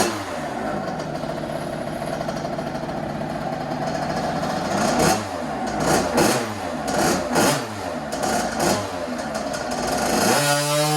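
A 2007 KTM 50SX motorcycle engine revs hard on a dyno during a tuning pull, a loud, high, buzzing two-stroke whine held steady and then rising and falling in several sharp revs before climbing again at the end.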